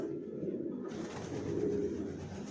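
Soft, low cooing of racing pigeons close by, a rolling repeated coo over a steady background hiss.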